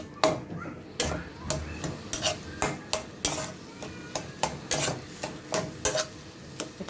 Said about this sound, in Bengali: ম্যাশ করা আলুগুলো এখন আমি একটু ভালো করে তেলের মধ্যে ভেজে নিচ্ছি।